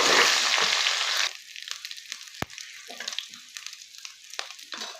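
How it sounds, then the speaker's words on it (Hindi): Loud sizzling of garlic-ginger paste hitting hot oil in a wok at first, then settling into quieter crackling and spattering with occasional clinks of a utensil. "1 चम्मच लहसुन अदरक का पेस्ट डाल दिया, सौते कर लीजिए।"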